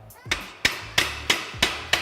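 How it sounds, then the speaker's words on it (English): The flat face of a ball peen hammer strikes the corner of a metal utility box held on a stake, six crisp metallic blows in a steady rhythm, close and alone. "Using the flat side of our ball peen hammer, we're gonna go ahead and place our stake right on the corner."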